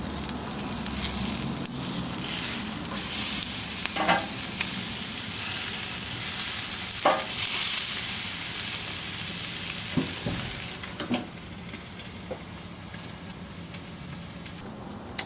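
New York strip steaks sizzle steadily on a Camp Chef Sidekick Deluxe grill box, a loud continuous hiss with a few clanks from the grill, the sizzle easing slightly near the end.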